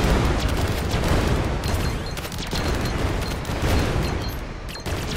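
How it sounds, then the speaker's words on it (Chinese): Explosions in the video game Greedland, a dense continuous barrage of booming blasts and rapid gunfire-like bursts, loud and unbroken with no talking. "然后我们就听到一堆爆炸的声音"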